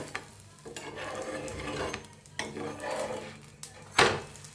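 A dhapata flatbread sizzles in a pan as a spatula scrapes and flips it, with soft frying hiss under several sharp scraping strokes and a louder clatter near the end.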